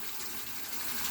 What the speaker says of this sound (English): Brushing under cold water using my denture brush